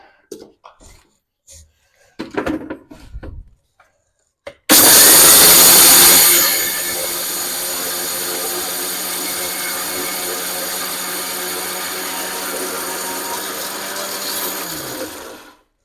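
A mixer grinder coarsely grinds pearl millet (bajra): after a few soft handling knocks, the motor bursts on loudly with a harsh, gritty whirr that settles into a steady hum, then winds down and cuts off.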